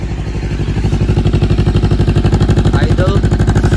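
A Voge 525RR motorcycle engine idles outdoors with its cover removed but silencer still fitted, a steady loud rapid pulsing throb running throughout, faint other noise in the background.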